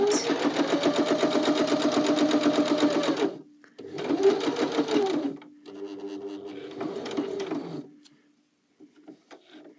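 A sewing machine stitches fabric for rice pouches in close, loud mechanical runs: a long burst, a short pause, then two shorter bursts before it stops.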